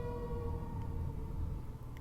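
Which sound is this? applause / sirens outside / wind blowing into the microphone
sirens outside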